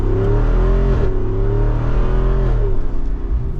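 A 2024 Jeep Wrangler 392 Rubicon Final Edition with its V8 drives along in a loud, steady low rumble that swells slightly under throttle, heard close without talk.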